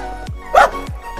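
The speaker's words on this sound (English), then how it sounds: "Dog." One dog gives a single short bark, loud and close, at about the middle, set between faint low thumps, with nothing else going on.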